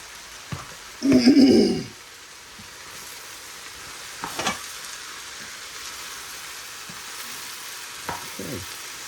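Cabbage seasoned with soy sauce and black pepper stir-fries in a pan with a constant soft sizzle; a loud burst of scraping comes early, followed by a few lighter stirring knocks.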